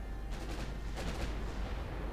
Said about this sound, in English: I'm firing at 19 kilometers.